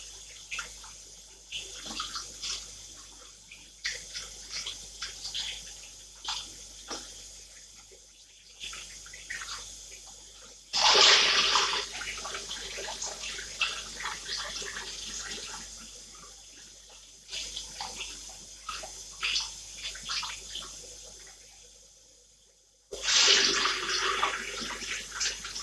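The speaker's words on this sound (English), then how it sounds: "So just gonna wash" Long grain rice being washed under running kitchen tap water: a fairly quiet, uneven stream with swishing and splashing, briefly stopping and restarting, with two louder gushes where the flow strengthens.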